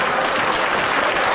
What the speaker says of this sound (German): Ja, der Applaus ist ja ganz schön.